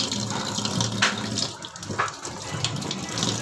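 Running tap water with hands being washed under it in a home kitchen, a steady close splashing stream with a few brief louder splashes and no talk.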